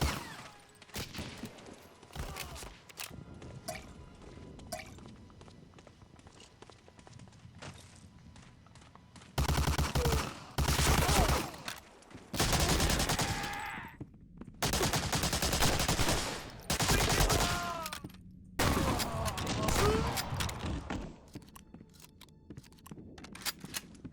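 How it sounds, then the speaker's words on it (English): Gunfire from the video game Medal of Honor: Allied Assault: loud, sustained bursts of rapid shots alternating with quieter stretches of scattered single shots and clicks. "I can recognize the gun sound effects to their respective title"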